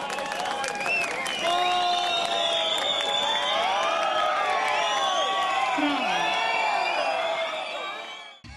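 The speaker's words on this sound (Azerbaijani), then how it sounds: "Sülh üçün alqış səslənsin" A crowd at an outdoor New Year and World Azerbaijanis Solidarity Day celebration in Nakhchivan city applauds and cheers loudly and steadily, with whoops and shouts rising over the clapping before it fades at the end.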